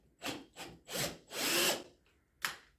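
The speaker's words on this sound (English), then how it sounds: "When you drill, you hold your drill straight up and down, go straight in, straight back out." A power drill bores into clamped wooden boards in five short whirring, grinding bursts of uneven length, close and loud, separated by brief pauses.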